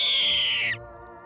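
A loud, shrill eagle cry from an eagle-horse character in a Roblox hybrid-horse game, a single sustained screech that bends downward and cuts off sharply, heard alone.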